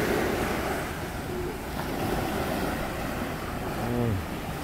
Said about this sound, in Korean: 파도 소리가 멋집니다.